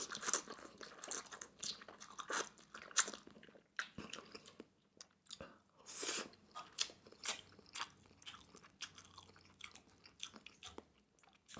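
Kimchi is chewed with a super spicy Korean army base stew (budae jjigae), giving close, repeated crunchy bites and wet mastication in an uneven rhythm, with no talking.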